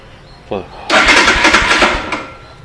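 A fully warmed-up Royal Enfield Himalayan motorcycle engine, tuned by carburetor, roars loudly for about a second after a brief vocal sound, then cuts back off.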